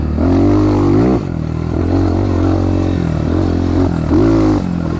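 An X-Pro 250 dirt bike engine revs hard and close, in rising and falling surges with a brief dip before climbing again, while the rider pulls a small wheelie.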